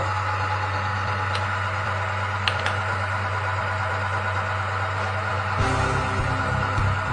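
A car engine idles steadily after an anti-wear oil additive is poured into the oil filler, a constant low hum with a couple of faint clicks before the tone shifts and roughens slightly near the end.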